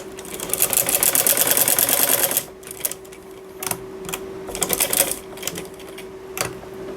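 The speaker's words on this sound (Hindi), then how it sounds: "इसके ऊपर से मैं सिलाई लगा लूँगी।" Sewing machine stitching a fabric strip onto a sleeve, near and steady, with a fast rapid clatter for a couple of seconds, then short bursts of stitching and fabric handling.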